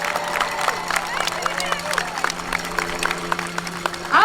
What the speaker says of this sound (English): let's give a round of applause for changing history